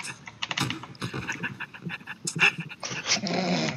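A person imitates a panting dog during a Cry of Fear horror game session, producing quick breathy huffs in bursts, close and fairly loud, with keyboard-like clicks and game noise in the background.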